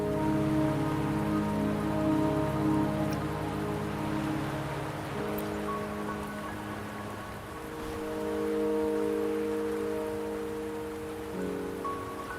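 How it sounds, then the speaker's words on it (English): Steady rain pours down in the video game Wuthering Waves, a dense continuous hiss of drops that swells slightly midway, heard under a layer of sustained musical tones with no voices. "Don't worry, the rain won't last much longer."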